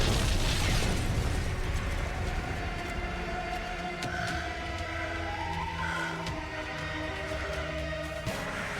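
A super missile fired and exploding in Metroid Prime 4: Beyond, a heavy blast and rumbling burst up front followed by sustained mechanical whirring and tonal game effects.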